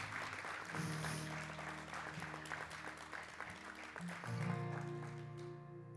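Church congregation giving applause for the senior pastor, a steady patter of clapping over sustained music, moderately quiet in a large room.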